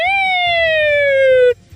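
A man imitates an emergency vehicle siren with his voice, one loud sustained wail with a slowly falling pitch held for about a second and a half, then cut off abruptly into quiet background.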